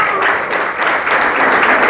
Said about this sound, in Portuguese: vamos aplaudir forte o Senhor Jesus.